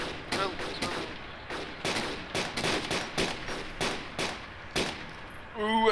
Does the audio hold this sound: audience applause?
no